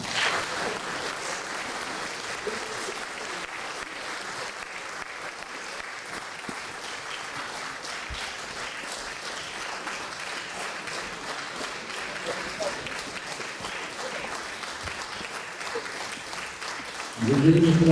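Audience applause at a film premiere: sustained, even clapping from a large crowd lasting many seconds at moderate level, swelling slightly at the very end.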